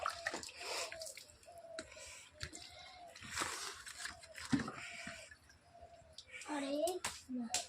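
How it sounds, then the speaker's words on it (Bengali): Water splashes and drips while Radha Krishna idols are washed during a home puja, small irregular sloshes and trickles close by, with voices talking over them. "খুব সুন্দরভাবে ধুয়ে পরিষ্কার করে দিচ্ছে রাধা কৃষ্ণকে"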